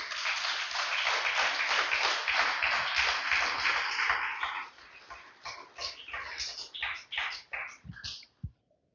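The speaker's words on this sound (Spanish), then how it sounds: "Denle un fuerte aplauso al Señor, aleluya." A church congregation applauds: dense, loud clapping fills the first half, then thins into scattered, fading claps before stopping.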